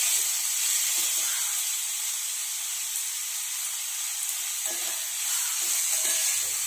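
Onions with salt fry in a pan for tomato dhal, giving a steady, even sizzling hiss throughout with faint low clicks from stirring; no voices.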